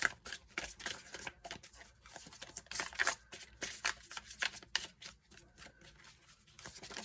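An oracle card deck, the Mama Magical deck, being shuffled close up, with rapid papery riffles and slaps coming in uneven bursts and no voices.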